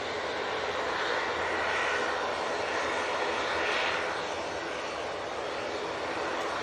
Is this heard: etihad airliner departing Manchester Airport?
yes